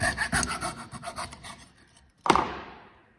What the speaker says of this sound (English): So I just move my saw backwards through my cut line so I can cut this last little bit